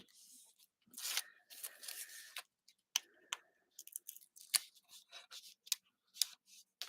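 Backing paper being peeled off a piece of designer series paper for a handmade card, a series of close, crisp tearing and crinkling bursts with little clicks between them, no speech.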